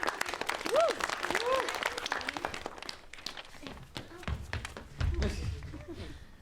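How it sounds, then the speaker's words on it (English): A live audience at an off-script stage show breaks into sustained, full applause while a speaker's voice carries over the clapping, which swells again briefly toward the end. "let's give another round of applause"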